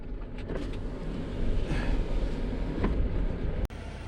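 A Subaru drives past on a rough off-road desert track at Big Bend, its engine and tyres rumbling steadily at moderate distance over wind, ending with a sharp click.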